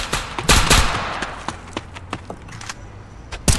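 Rapid video game gunfire crackles in sharp, irregular bursts of close shots, with a few louder cracks at the start and near the end.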